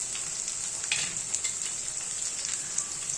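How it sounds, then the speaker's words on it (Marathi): Two large onions sizzle steadily in a pan while being stirred for a paneer lababdar paste, a continuous bright frying hiss with faint scraping touches and no talk. "मी मोठे 2 कांदे घेतलेले आहेत. त्याला हलकासा कलर येईपर्यंत त्याला हलवत राहायचं."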